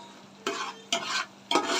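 A dal tempering sizzles and is stirred in a pan for Rajasthani-style dal bati. Three sharp, close bursts of hissing sizzle sound in turn, each fading into a softer fry before the next. No voices.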